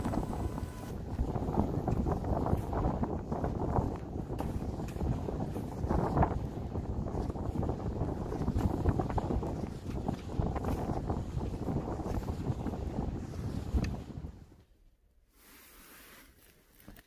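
Strong wind roars and buffets across the snowy summit of Seonjaryeong on an April evening during heavy spring snow, a loud, continuous gusting rush for about fourteen seconds before dropping to a quieter, steadier blow.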